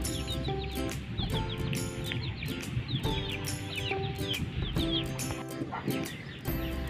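Muscovy ducks, local white and Rambon silver birds, some loose outside the pen, give repeated close bird calls and chattering clucks over a busy farmyard background, with a faint voice briefly present.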